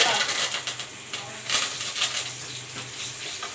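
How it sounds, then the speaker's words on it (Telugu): Spices and curry leaves tempering in hot oil for a fish curry, a bright steady sizzle with crackling pops close to the pan, and faint talk in the background. "ఇప్పుడు లైట్గా కొంచెం పోపులు వేసుకుంటాం."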